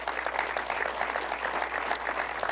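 Brief burst of audience clapping at an evening talk on law enforcement, steady and fairly close, filling the short moment without voices.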